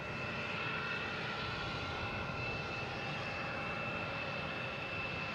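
A Southwest jet airliner takes off from Boston Logan bound for Denver, its engines producing a steady, broad roar that holds level and unbroken throughout, with no voices over it.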